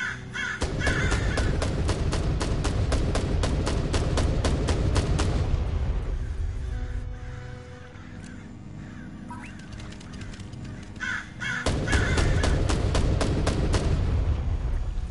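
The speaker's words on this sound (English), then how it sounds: "Can I get the dog to scare some crows?" Repeated crow caws from a flock in the side-scrolling video game Black the Fall, loud harsh bursts in rapid series that thin out mid-clip and return in a dense burst near the end.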